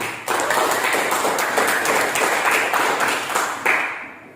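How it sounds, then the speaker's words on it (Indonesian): A classroom audience applauds together, a dense, steady wash of many hands clapping at close range that starts abruptly, holds evenly and swells once more just before fading out, with no voices over it. "Tepuk tangan."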